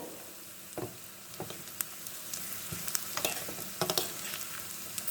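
Onions frying in a pan for mutton chops, a soft steady sizzle with intermittent scraping stirs and clinks of a utensil, close by and fairly quiet.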